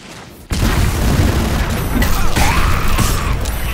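Explosive barrels blowing up in Baldur's Gate 3: a sudden loud boom after a brief quiet moment, followed by a sustained rumbling, crackling roar of blasts and debris that stays loud throughout.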